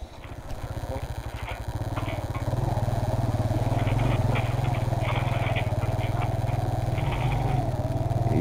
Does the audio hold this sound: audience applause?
no